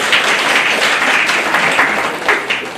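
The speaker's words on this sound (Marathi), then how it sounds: "त्यांच्यासाठी एक जोरदार टाळ्या." Audience at a school batch reunion gathering breaks into steady, loud applause, dense clapping sustained throughout with a faint voice underneath.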